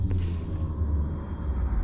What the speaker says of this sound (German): Das Grollen aus der Tiefe.